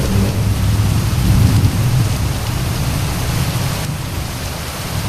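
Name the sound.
thunder and rain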